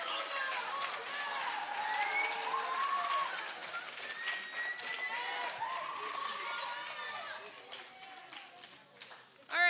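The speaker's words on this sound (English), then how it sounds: "All right, please give these guys a round of applause here." Dense applause from an audience at a junior high academic awards ceremony, steady and close throughout, with voices carrying over the clapping.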